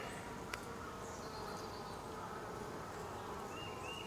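Honeybees buzz in a dense, continuous hum around an open hive during inspection, many insects droning close by at a steady low level with no voices.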